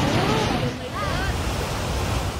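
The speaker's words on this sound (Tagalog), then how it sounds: "Umagos sa mabatong ilog ang kulay abong tubig na yan mula sa Padudusan Falls" Gray lahar water from Kanlaon Volcano rushes down a rocky river below Padudusan Falls in Canlaon City, Negros Oriental. The roar is loud and continuous, with a voice faintly heard beneath it.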